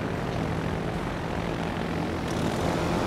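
Aircraft engines flying overhead in the World of Warships naval video game: a loud, continuous propeller-engine drone and roar that fills the whole stretch without pause.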